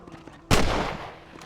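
A single sharp rifle shot from the Red Dead Redemption game bursts out loud at about half a second, its broad blast decaying into a long echoing tail.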